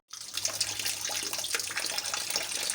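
Lotus root being rinsed of mud under a running kitchen tap: a steady close splashing stream of water that starts abruptly and continues evenly throughout, with no voices.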